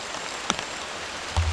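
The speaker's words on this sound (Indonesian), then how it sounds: "Ini hujannya makin rapat ya" Heavy rain falls in a forest at night as a steady soft hiss of drops, with a few sharper close taps and a brief low thump near the end.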